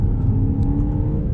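A BMW X1 28i engine pulls steadily in sport mode, a loud, continuous low drone and whir held close for about a second with no pauses.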